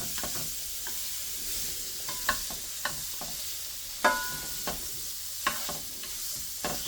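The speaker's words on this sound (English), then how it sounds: "So we're gonna mix this around until they get a little bit brown" Sausages sizzle in a frying pan under a steady hiss, while a utensil scrapes and knocks against the pan in irregular strokes every second or so.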